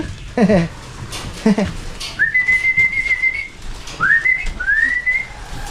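A person whistles to call pigeons in short, rising calls, two quick chirpy bursts and then longer sustained whistles, loud and close with faint background noise.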